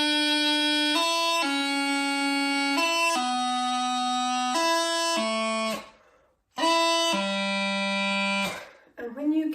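Bagpipes sounding a sustained D with a quick E grace note, loud, reedy and buzzing, with several note changes before the sound cuts off briefly and returns.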